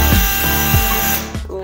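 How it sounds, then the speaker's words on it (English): A handheld power drill bores pilot holes in cabinets at a trade school, whirring loudly and continuously up close with brief changes in pitch as the bit engages. "we're gonna notch our little pilot holes here with my handy-dandy drill"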